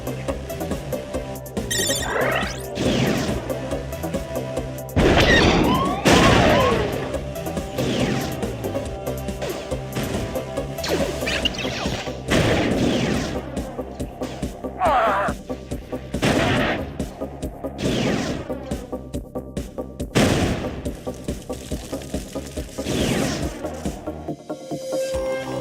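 Blaster cannon fire and fortress attack in the Star Wars Galactic Battlegrounds strategy game, loud repeated shots and crashing impacts in an uneven rhythm across the whole battle, with layered weapon blasts and no talking.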